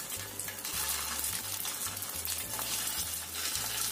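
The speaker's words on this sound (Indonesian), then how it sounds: "Kita goreng sampai kaku dan kuning keemasan." Oil sizzles and crackles steadily as chicken meatballs fry in a pan, with a soft low hum pulsing underneath and no voices.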